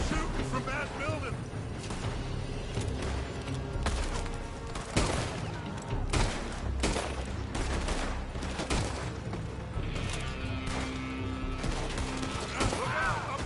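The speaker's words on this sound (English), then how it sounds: "They're shooting from that building!" Gunfire from a building in Red Dead Redemption 2 mixes scattered loud shots with rumbling blasts and crashes, set against game music and voices calling out.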